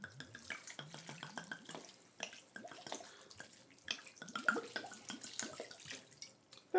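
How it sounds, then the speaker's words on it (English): White wine poured from a bottle into a cooking pot, about two thirds of the bottle: a faint, steady liquid trickle and splash with small dripping clicks throughout. "We're going to pour about 2/3 of this bottle in."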